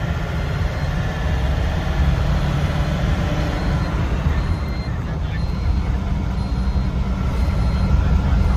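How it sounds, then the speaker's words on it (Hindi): A Tempo Traveller van's engine drones steadily while driving on the road to Goa airport, a continuous loud low rumble with road noise filling the whole stretch. "टेम्पो ट्रैवलर के इंजन की आवाज़ की वजह से शायद मेरी आवाज़ थोड़ी दब के आए"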